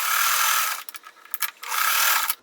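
A sewing machine stitching quilt block pieces together, a loud steady whirring run near at hand that stops briefly for a few clicks and handling knocks, then resumes in a second burst before cutting off.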